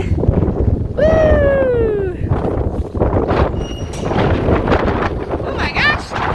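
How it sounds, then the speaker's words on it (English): A big gust of wind at a Wyoming horse ranch roars in a broad rushing buffet against the microphone, loud and close, while a person talks and a high whistling creak rises briefly. "That was a big gust of wind."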